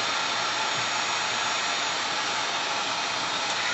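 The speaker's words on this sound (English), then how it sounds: "So get the old heat gun and heat it up." A heat gun shrinking heat-shrink tubing over wire on a quadcopter build gives a constant, close, loud hiss of hot blowing air, unbroken from start to end, with no talk.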